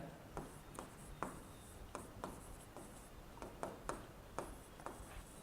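Writing on a board during an accounting lesson, with repeated short scratchy strokes in an irregular rhythm, close and quiet, with no talking.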